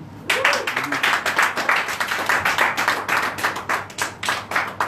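A church congregation clapping together in a fast, steady rhythm of sharp claps, loud and filling the room, with a few voices faintly underneath.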